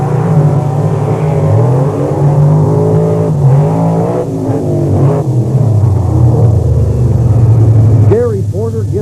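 Chevrolet-powered monster trucks accelerate side by side in a semifinal race at an outdoor beach motorsport event in Wildwood, New Jersey, with loud, sustained engine roar under an announcer's commentary.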